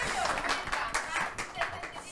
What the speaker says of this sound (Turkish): Size alkış geldi ilk kez.